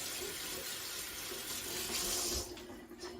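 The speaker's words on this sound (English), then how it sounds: "I need to wash off all the mustard and spices and everything that's on my hands. Just give it a rinse off." A kitchen tap runs steadily into a sink as mustard and spices are rinsed off hands, making a continuous close, full water rush with slight splashing changes and no talk.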